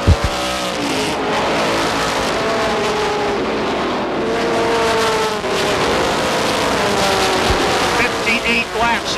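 ACT Coors Tour stock cars race at Beech Ridge Motor Speedway in 1989, a loud pack of engines droning and shifting pitch as they pass close, continuous throughout, with a commentator's voice likely underneath.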